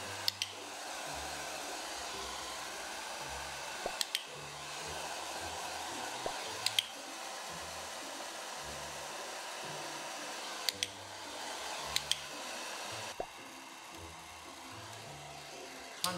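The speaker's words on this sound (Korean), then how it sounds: "드라이기 온 하겠습니다" A hair dryer on high power blows steadily and loudly while drying a dog after a bath, with a constant whooshing roar and a few faint clicks and taps along the way.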